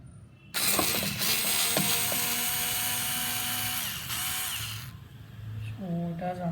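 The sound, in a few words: Black & Decker KC4815 cordless screwdriver unscrewing a screw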